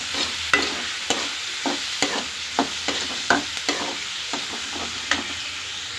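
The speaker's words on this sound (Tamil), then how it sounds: "நல்லா வெங்காயம் நல்லா வதங்கணும்" Onions and turmeric sautéing in oil for a prawn thokku, a spoon scraping and tapping the pan in a steady stirring rhythm over a soft, continuous sizzle, close and moderately loud with no talking.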